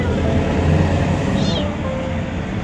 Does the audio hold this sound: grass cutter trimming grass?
no